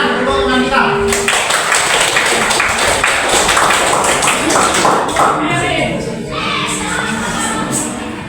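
Pupils in a classroom clap for a classmate, loud, close and uneven, with scattered taps and thuds, and voices talking throughout.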